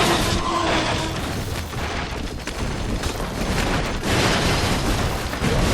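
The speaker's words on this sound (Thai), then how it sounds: "เฮ้ยระเบิด" Loud, dense blasts and rumbling booms from the video game Expendabros fill the whole stretch, with crackling bursts and no clear pauses.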